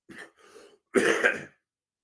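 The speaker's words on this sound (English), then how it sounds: "pardon me for coughing" Two soft throat-clearing sounds, then a louder, longer rough cough-like clearing of the throat, close up with nothing else around it.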